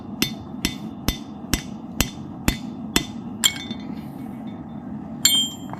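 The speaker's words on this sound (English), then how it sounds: "Grab my chisel and my 4-pounder." A four-pound hammer strikes a chisel on an anvil while forging a railroad-spike axe, with eight sharp, evenly spaced ringing blows followed by a pause and a couple of lighter metallic clinks.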